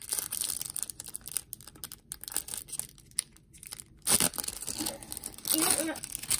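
Packaging of a Pokémon Temporal Forces Elite Trainer Box crinkles and tears up close, with bursts of rustling plastic and cardboard scraping, while people talk at times.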